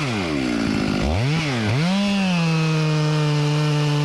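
A chainsaw revs up and bores into an ash tree, engine pitch swooping as it throttles and then settling into a loud, steady high cutting whine close by, with no speech.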